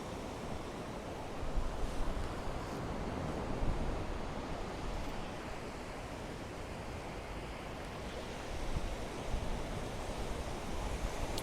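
Ocean waves wash onto a beach of wet sand and tidal pools in a continuous, fairly distant roar, swelling and easing every few seconds with some wind noise and no voices.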